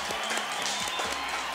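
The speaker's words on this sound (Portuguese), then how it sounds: "Aplausos para a nossa atriz chiquérrima Cristiane Freitas" Studio audience applause welcoming an actress onto a talk show set, a steady wash of clapping with a low rhythmic musical beat underneath.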